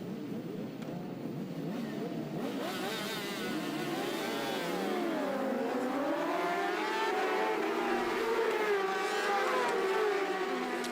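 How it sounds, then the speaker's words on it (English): Supersport racing motorcycles pulling away on a warm-up lap at a Dunlop Masters Superbike race, engines rising and revving in overlapping sweeping tones, loud and continuous as the bikes accelerate. "riders away on their warm-up lap for the opening Supersport race of the afternoon"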